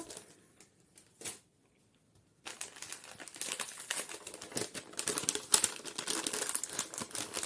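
An envelope from an online order of craft supplies such as masking tape being torn and opened up close, starting with a few isolated rustles and then turning into dense, continuous crinkling and ripping of paper with no speech.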